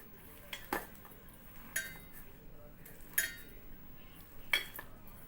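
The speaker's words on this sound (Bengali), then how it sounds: "এখন এগুলোকে আমি ভালো করে মিশিয়ে নিচ্ছি।" A spoon stirs a flattened rice snack mixture bound with cornflour in a bowl, giving a few sharp, spaced metal clinks against the dish over a quiet background.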